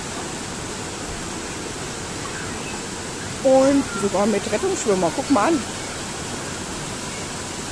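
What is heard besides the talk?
waterfall rushing into a lagoon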